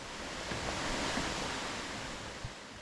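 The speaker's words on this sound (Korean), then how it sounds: "구곡담 계곡의 마지막 폭포가 예쁘고 아름다운 모습으로 흘러내리고 있다" Steady broadband rush of a small waterfall in Gugokdam valley on Seoraksan, heard on a rainy mountain hike, continuous and moderately loud with no voices.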